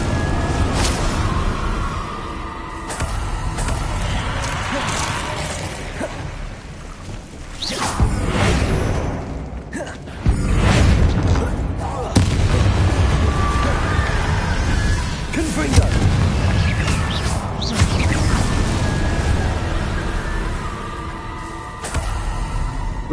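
Confringo fire spell blasts in a Hogwarts wizarding video game, a run of whooshing bursts and booming impacts spread across the scene, with a voice speaking between them.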